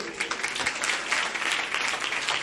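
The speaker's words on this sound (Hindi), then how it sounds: "तालियां बच्चों के लिए।" A congregation at a church sermon claps briefly for the children, a short, moderately loud burst of dense applause with no voices over it.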